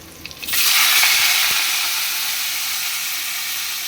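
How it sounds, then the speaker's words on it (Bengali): Cauliflower and potatoes sautéing in a pan, a loud sizzle that bursts in after a brief pause and then holds steady with faint crackles, no talk over it. "এখানে ফুলকপি আলু কষানো হচ্ছে"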